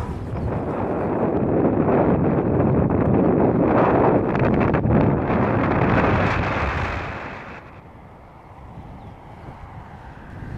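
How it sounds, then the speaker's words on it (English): Strong wind roars through a forest, a loud, continuous buffeting rush that hits the microphone hard for several seconds before easing to a softer, steadier blow. "very windy"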